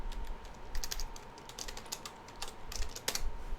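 A computer keyboard clatters with quick, irregular key presses, close and fairly quiet, with no talking.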